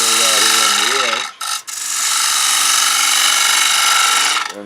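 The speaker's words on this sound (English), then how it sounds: "Now here I normally start with the same 1/2 inch bowl gouge and start out here on the edge." Wood turning on a lathe with a 1/2 inch bowl gouge cutting at the edge of a plate blank, a loud continuous broadband shearing hiss with a brief break, and a voice speaking briefly at the start.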